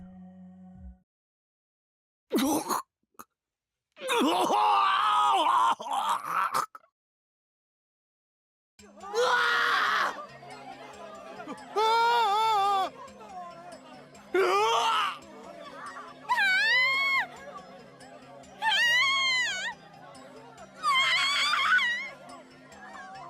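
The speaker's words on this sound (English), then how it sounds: "The students' scream echoed in my ears." Panicked students screaming in a school gym in the Chaos;Child visual novel: a string of loud, wavering shrieks in separate bursts, some overlapping, after brief spoken lines and a quiet gap.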